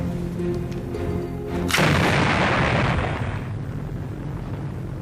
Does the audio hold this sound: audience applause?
no